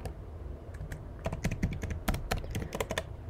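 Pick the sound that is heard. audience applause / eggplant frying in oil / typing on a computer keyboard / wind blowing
typing on a computer keyboard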